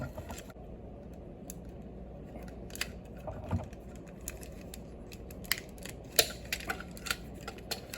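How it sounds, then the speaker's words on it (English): Plastic panels of a bootleg Transformers Sentinel Prime toy being pressed and clicked into place, giving scattered sharp close clicks and taps over faint handling noise. "It clicked."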